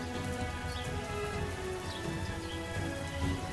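Heavy tropical rain pours over dense jungle on Ecuador's eastern flank, a steady close hiss of drops hitting foliage and surfaces with no pause.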